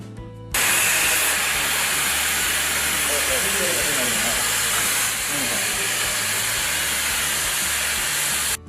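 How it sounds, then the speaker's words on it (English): An oxy-fuel blowpipe flame preheats a mild steel plate, roaring as a loud, steady hiss that starts abruptly and continues unbroken near the listener, with faint speech-like sounds underneath. "Now, preheat the starting point of the punched line of MS plate to a cherry red color."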